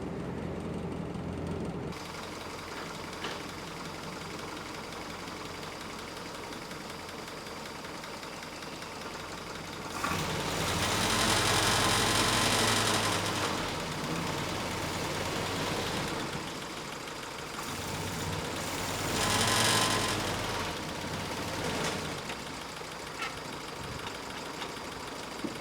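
Willys Jeep engine idling steadily after a cold start, a low even rumble with a light ticking knock, swelling louder twice as the throttle is blipped.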